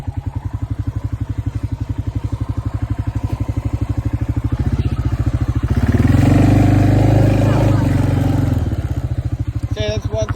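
Honda Recon 250 ATV quad engine revving hard while stuck on a log, a loud close throbbing motor that surges louder and deeper midway before easing back.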